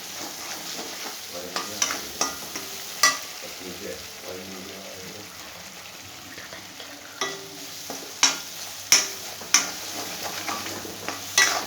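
Spices frying in oil in a pan, a steady soft sizzle broken by sharp metallic clinks and scrapes of a spoon stirring against the pan.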